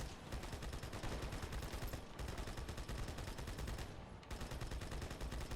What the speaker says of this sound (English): I want every gun to fire on that man.